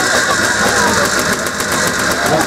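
A classic vehicle engine is cranked and started at an outdoor classic car event, a loud steady mechanical roar with rhythmic pulsing that runs throughout.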